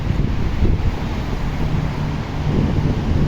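Steady cold wind buffets the microphone with a constant low roar, outdoors in Spain with no clear voices.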